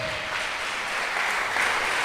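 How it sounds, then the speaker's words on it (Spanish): Congregation applauding in a church, a steady dense wash of clapping without a break for about two seconds. "Dele un aplauso al Rey de Reyes y al Señor de Señores"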